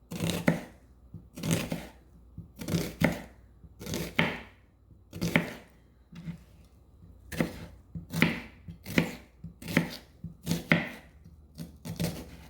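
A knife chops an onion on a cutting board for guacamole, giving about a dozen crisp, close, separate strikes in a loose, uneven rhythm with short quiet gaps between them.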